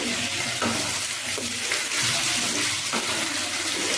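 Cut potatoes are added to a pan of frying onions for Bengali-style matar ghugni, giving a steady, loud hiss and sizzle with a few scraping stirs in between.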